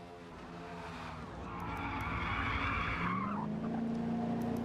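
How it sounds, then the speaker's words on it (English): A NASCAR race car in a racing game skids and spins out, tires squealing loudly over a rising engine tone that sweeps upward as the car loses control, with no talk. "Infinity trying to get that car back under control. Spins and is badly damaged."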